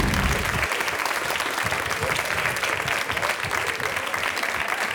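A TV talk-show studio audience gives sustained, dense applause for the guests: a loud, steady wash of clapping for several seconds with faint crowd murmur.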